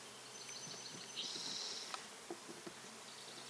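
A package of docile, bred Italian honeybees gives off a faint, steady buzzing hum that swells slightly midway, with a few soft clicks and no voices.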